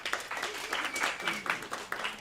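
A live studio audience at a public radio event claps steadily in a dense, even wash of applause.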